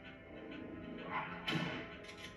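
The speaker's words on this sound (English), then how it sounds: "Or maybe I can just run by these dogs?" Zombie dogs in the Resident Evil video game bark and whimper in short, faint yelps over a dull, steady game soundscape.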